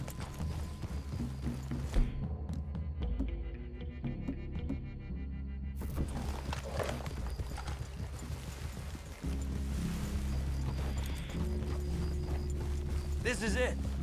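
Horses in the video game Red Dead Redemption 2, steady clip-clop of hooves walking through a clearing with occasional snorts, under game ambience and character dialogue.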